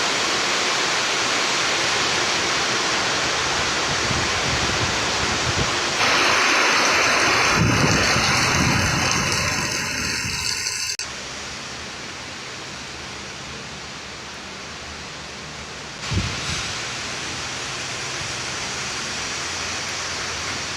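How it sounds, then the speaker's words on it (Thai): Steady rain hisses down without a break, loud at first then softer, with a brief thump partway through and no talking. "ฝนตกแล้วนะครับ"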